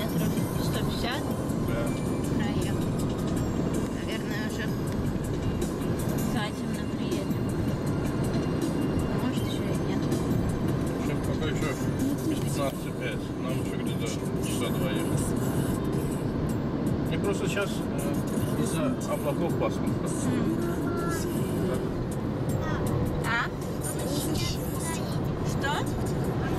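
Inside a car on the road, a steady broadband rumble of engine and tyre noise runs without a break. Voices talk faintly over it now and then.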